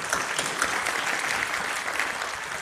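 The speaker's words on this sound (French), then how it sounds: "j'aimerais bien l'applaudir." Audience at a Microsoft smart-campus event breaking into sustained applause, a dense, even wash of many hands clapping at once, loud and steady throughout.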